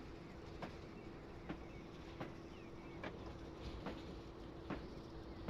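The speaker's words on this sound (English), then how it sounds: "as our train goes by" A train rolling along rails on the Falmouth branch line, heard from on board as a steady low rumble with evenly spaced clickety-clack beats from the rail joints, fairly faint and unbroken.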